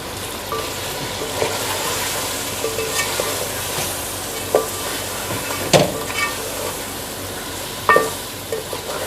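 Garlic, ginger and dry spices fry in a pot with a continuous soft sizzle, punctuated by a few louder scraping stirs of a spoon against the metal.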